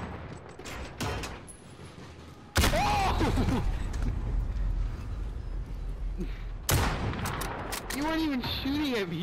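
Gunfire in a Modern Warfare match as shots are fired at windows: sharp bursts of shooting come in clusters, with a voice talking over much of it.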